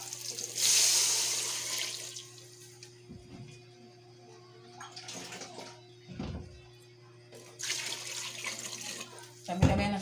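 Water pours into a cooking pot of sotanghon with squid balls in bursts, with a loud initial gush, quieter trickles in the middle and another strong pour near the end, plus a clank.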